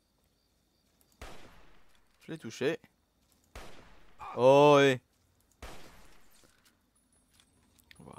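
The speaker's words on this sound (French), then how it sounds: "C'est juste pour tester le fusil" Rifle gunshots in Fallout 3, several sharp cracks spaced a second or so apart, with someone speaking French between them.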